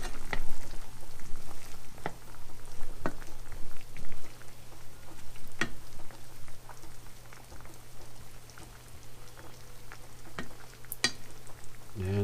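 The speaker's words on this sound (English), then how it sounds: "Give it a quick stir." Shrimp scampi with parsley sizzling in a pan while being stirred, a steady close crackling fry with scattered sharp pops and spoon scrapes.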